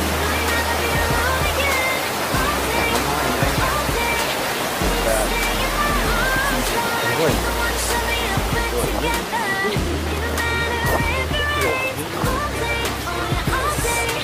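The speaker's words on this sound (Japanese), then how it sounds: "滝がいいよ、滝" A waterfall at a campsite in Yamanashi roars as a steady, loud broadband rush throughout, with people talking over it.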